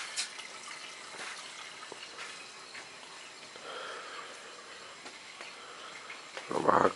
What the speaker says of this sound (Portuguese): Aqui a pia, que não pode fechar a torneira nunca,